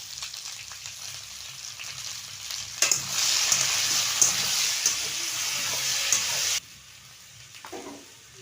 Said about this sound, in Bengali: কচুরমুখী আর আলু আমার ভালো করে লাল লাল করে ভাজা হয়ে গেছে